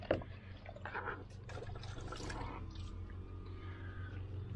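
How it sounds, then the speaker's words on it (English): Water drips and trickles during a leak test on a BMW 5 Series F10, passenger side, with a few faint splashes and patters over a low hum. "So now we see that all the water is dropping down."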